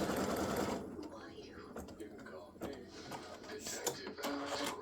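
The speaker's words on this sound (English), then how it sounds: "So it's doing a little satin stitch at the bottom." Embroidery sewing machine stitching a satin stitch on a Santa legs appliqué design, a rapid mechanical needle chatter running continuously close by, with a voice speaking over it.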